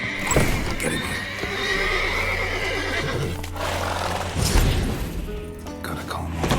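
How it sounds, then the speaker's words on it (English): Horses neigh and whinny with hooves clip-clopping in The Witcher 3: Wild Hunt, loud and close over steady game ambience, with occasional thuds. "Gotta call more horses before they wake"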